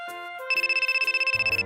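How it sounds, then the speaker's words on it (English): A mobile phone rings with a bright electronic ringtone: a brief steady tone, then a rapid pulsing warble of even beats, close and clear, with a low rumble entering near the end. "Your phone has been buzzing forever."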